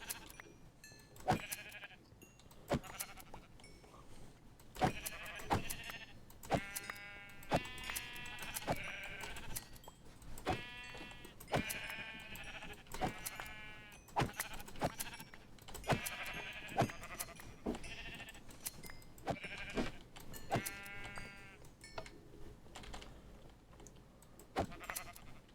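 Repeated sheep bleats from a Minecraft-style video game, several wavering cries spread evenly through the stretch, close and fairly loud over light clicking game sounds with no talking.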